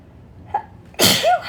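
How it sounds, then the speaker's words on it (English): A single sharp sneeze bursts out loud and close after a faint small intake of breath, followed by a brief tonal squeak or voiced tail as it trails off. "knew I was going to sneeze."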